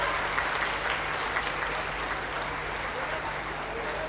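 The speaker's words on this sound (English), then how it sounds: "Please give a huge round of applause." An audience at a 2023 university orientation day ceremony applauds in a sustained, even wash of clapping that fills the hall for the whole stretch, steady and fairly loud, with no one speaking over it.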